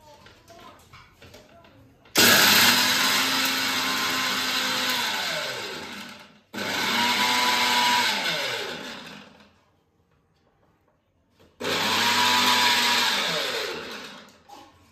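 A powerful electric mixer grinder grinds homemade protein powder loudly in three bursts, whirring and grinding for several seconds each, with short quiet pauses and faint voices between.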